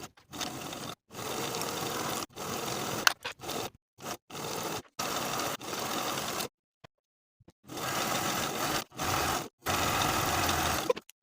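A sewing machine stitches a trouser seam in long continuous runs broken by short pauses, its steady motor whir close and fairly loud, with no talking over it.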